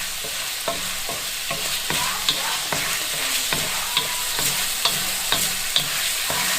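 Onion and chicken fry in a pan with a steady, close sizzle, punctuated every half second or so by sharp clinks and scrapes of stirring; no voices.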